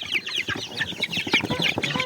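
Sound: chickens clucking

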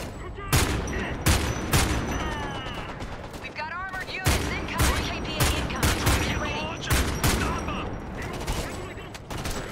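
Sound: gunfire in the video game Homefront: The Revolution

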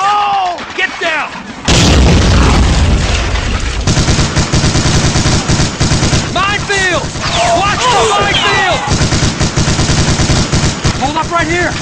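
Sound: Bangalore torpedo explosion with gunfire in a Lego war film

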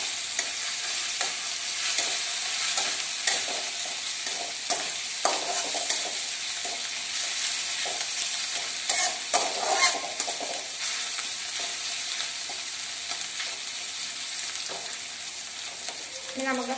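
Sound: frying and stirring chopped green chillies in a pan

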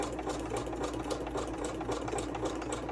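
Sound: sewing machine stitching fabric

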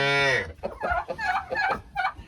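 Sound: chickens clucking in a shed with calves

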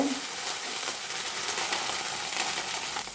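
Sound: frying green chillies with garlic ginger paste

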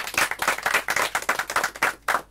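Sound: audience applause at a concert

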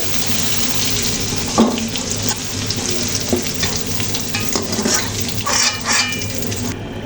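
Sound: vegetables frying in a pan

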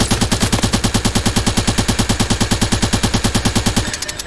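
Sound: machine gun fire in video game

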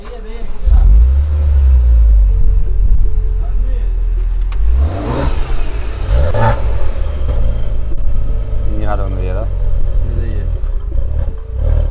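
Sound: Maserati Ghibli SQ4 engine revving

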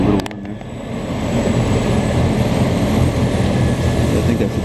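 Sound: snow blower approaching on a Montreal street

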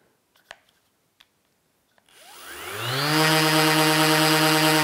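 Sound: orbital sander running at full power

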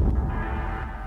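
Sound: distortion effect on synth pad

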